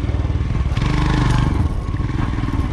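A big motorcycle rides an enduro trail, its engine throbbing steadily up close with clattering and scraping from the rough ground throughout.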